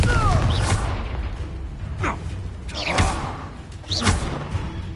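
Confringo blasting spell from Hogwarts Legacy, several short thumping impacts with whooshing bursts spaced about a second apart, mixed with brief game effects and a voice.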